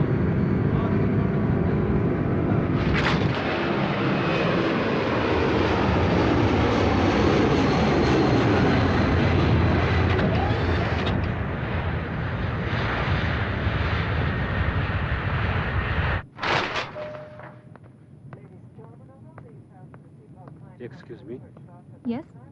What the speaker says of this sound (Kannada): ಫ್ಲೈಟ್ ಟೇಕ್ ಆಫ್ ಆಯ್ತು